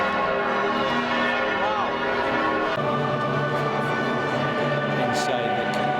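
Church bells of St. Stephen's Cathedral ring continuously, layered metallic tones with repeated strikes ringing out loud and near, while a person speaks briefly over them.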